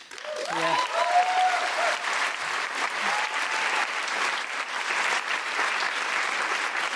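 An audience breaks into sustained applause at a live comedy podcast recording, steady clapping filling several seconds with a brief voice near the start.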